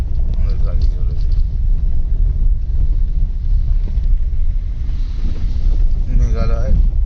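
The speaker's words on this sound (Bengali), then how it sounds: "আমাদের গাড়ি চলেছে।" A car drives along a rainy, cold road in Meghalaya near Cherrapunji, its low engine rumble and road noise steady and close inside the cabin, with wind buffeting and people talking over it.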